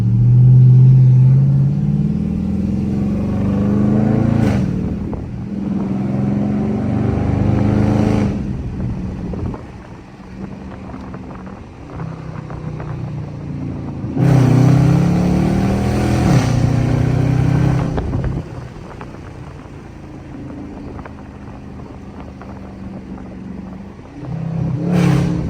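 A Dodge Charger R/T V8 driven at night with a loud exhaust, deep rumbling cruise broken by repeated throttle pushes that swell into roaring revs, close and continuous with no talking.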